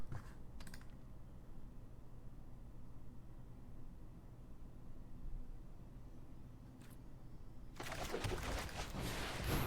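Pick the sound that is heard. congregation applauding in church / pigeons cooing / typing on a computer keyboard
typing on a computer keyboard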